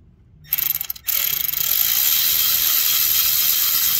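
Close, steady clicking of a ratchet fitted with a 10 mm socket, loosening the camshaft position sensor bolt on a 2015 Jeep Patriot with the 2.4L engine, after a brief initial grab.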